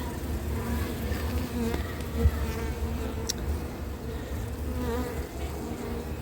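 Honey bees buzz in a dense, steady drone around an open spring beehive, close and continuous, with individual bees whining past now and then and no one talking.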